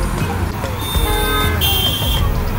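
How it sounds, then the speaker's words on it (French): Car horns toot repeatedly in busy Freetown street traffic, several short, loud honks overlapping against a constant rumble of road noise and engines. "Ça klaxonne aussi hein, beaucoup."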